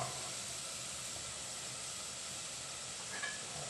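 Steady broadband sizzle of water from rinsing a mortar splashed into a hot pan while cooking field-rat curry with vegetables, a continuous loud hiss with no voices.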